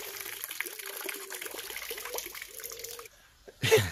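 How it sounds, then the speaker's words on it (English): Hot water drains out of a safe in a quiet trickle and dribble, a thin, faint stream running for about three seconds, followed by a brief louder splash or knock at the end. "I want to drain hot water out."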